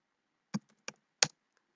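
Three separate key taps on a computer keyboard, sharp and close, spaced unevenly with silence between them.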